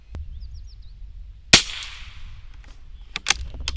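A vintage Winchester 67a .22LR single-shot rifle fires CCI ammunition, giving one sharp, close crack followed by a short fading tail and a few faint clicks afterward.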